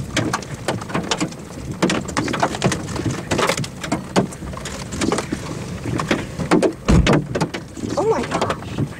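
Hail from a tornado-producing storm near Dimmitt, Texas, rattles in dense, irregular cracks and clatters over a rushing rain-like wash, with a few louder hits and some voices in between.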